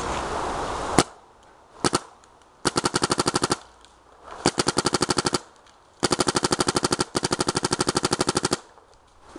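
Rapid bursts from a Planet Eclipse Geo2.1 paintball marker, several rattling strings of fast shots separated by short pauses, loud and close.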